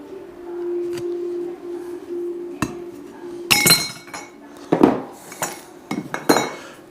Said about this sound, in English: I've got my snips here.